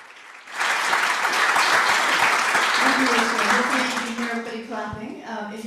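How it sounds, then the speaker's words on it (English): A lecture audience breaks into sustained applause that starts abruptly, holds steady and loud, then thins out as a voice begins talking near the end. "Clapping."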